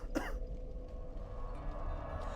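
A single short cough from a streamer near the start, close and fairly loud, followed by quiet room tone.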